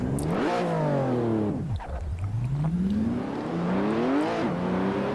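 A Lotus Evora GTC race car at Imola in a racing video game revs hard, its engine note climbing, dropping sharply as it shifts or lifts, then rising again in loud, close sweeps.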